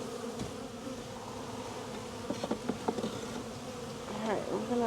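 Honeybees from a newly installed package build honeycomb in a fresh hive, producing a dense, close buzzing hum with individual bees droning past nearby.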